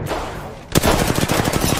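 Apex Legends automatic gunfire erupting after a quieter lull, a loud rapid burst of shots in a fast, even rhythm, close and continuous.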